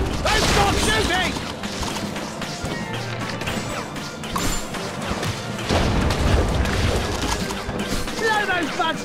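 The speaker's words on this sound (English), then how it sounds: "Clear those voids! Keep going, Buck! Don't stop shooting!" Video game shooting and explosions from Ice Age 3: Dawn of the Dinosaurs, with continuous loud crashes, booms and impacts layered with game music and character voices throughout.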